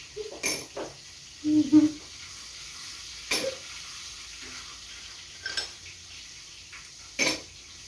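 Chicken pieces fry in a pan over a quiet low sizzle, broken by scattered sharp clinks and scrapes of a utensil against the cookware at uneven intervals.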